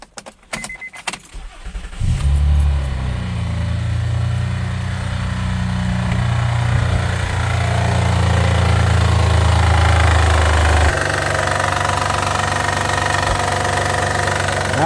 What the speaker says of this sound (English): we're gonna give it a little start, make sure it's running good.